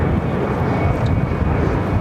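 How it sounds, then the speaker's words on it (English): An EVA Air Boeing 777-300ER with GE90 engines taxis at LAX, a steady broadband engine roar with a thin high whine, moderately loud and continuous, no talking. "you can hear those sounds, the GE90s"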